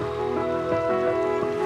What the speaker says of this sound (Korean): 파도 소리 좋다